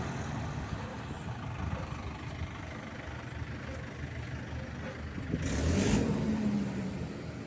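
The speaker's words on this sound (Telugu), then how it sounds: "చూడండి, తాటర్ దమ్ము చేసి వచ్చేసింది" A tractor fitted with full cage wheels returns from puddling a paddy field. Its engine rumbles faintly and steadily in the distance, then swells briefly louder toward the end.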